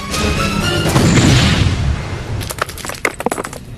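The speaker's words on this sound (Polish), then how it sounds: "Saper nacisnął rączkę zapalarki. Dał się słyszeć głuchy huk." A dull, heavy blast at a tunnel entrance, set off by a sapper, rumbles and roars, then breaks into a scatter of sharp cracks and falling debris.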